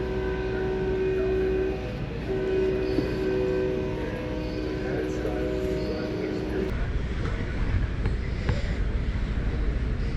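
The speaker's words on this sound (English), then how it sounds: "Air horns." Truck air horns sound one long, steady, loud blast that holds for several seconds and then cuts off, leaving a low background rumble.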